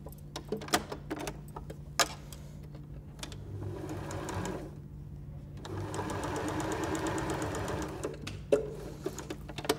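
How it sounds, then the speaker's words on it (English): A sewing machine runs a zigzag top stitch on a fabric egg cosy in two steady close bursts of whirring stitching, with clicks and short pauses between them. "Just with a little top stitch, and that's a zigzag stitch."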